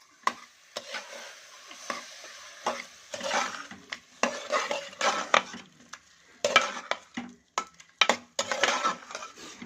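Dried red chillies tossed into a pan for chicken curry, bursts of stirring and light sizzling scrapes in uneven rhythm, close and moderately loud, with brief pauses between strokes.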